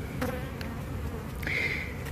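Honeybees buzzing around a colony in a tree during a removal in Tampa, Florida, close, steady droning with a few individual bees whirring past the microphone.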